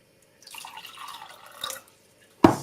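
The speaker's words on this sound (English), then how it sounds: "I'm going to add 1/2 part water, so that's about 75 grams of water as well." About 75 grams of water trickles into a bowl of sourdough bread dough, a soft, close pouring splash lasting about a second, ending in a short sharp drip-like knock.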